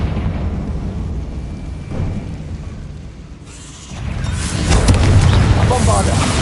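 A Confringo blast spell in the game Hogwarts Legacy, a rumbling roar that swells into a loud, sustained burst of fiery crackling and booming.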